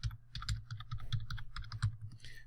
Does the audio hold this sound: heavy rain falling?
no